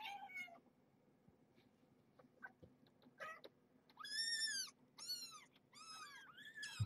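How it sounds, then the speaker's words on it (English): Several kittens squeal and meow in short, high, rising cries, a few faint at first, then louder overlapping bursts near the end, close and otherwise quiet. "Squealy kittens."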